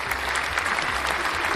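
A crowd at a stand-up comedy set applauds in a steady, dense wash of clapping that holds evenly from start to finish, with no speech.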